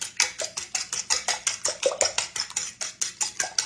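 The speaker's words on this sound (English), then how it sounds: "I've got 4 large eggs, and you beat it up really good" Four large eggs being beaten in a bowl give a brisk, steady rhythm of about five strokes a second, each stroke a sharp wet clatter of utensil against the bowl, close and alone.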